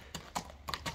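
Horse hooves clip-clopping on the ground, four quick, faint, evenly spaced knocks in about a second, heard alone without talk.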